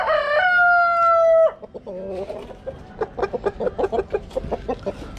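On a chicken farm, a rooster lets out one loud, long crow close by, followed by a rapid series of clucks and short calls from the fowl, with no speech.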